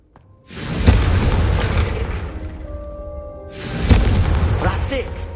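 Confringo fire spells blasting candelabras in Hogwarts Legacy: two heavy booming bursts a few seconds apart, each rolling into a crackling rumble, with game music and characters' voices underneath.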